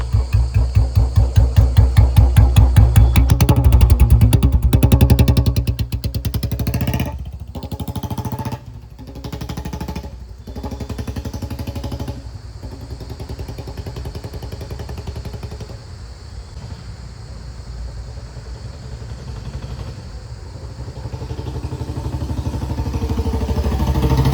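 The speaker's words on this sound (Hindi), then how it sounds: "इसका बिल्कुल साइलेंट पड़ा है भाई इंजन" A Royal Enfield Bullet motorcycle engine, converted from BS6 fuel injection to a BS3 carburettor, idles with a rapid, steady putter that rises, then settles into a quieter running hum with brief dips, no talking.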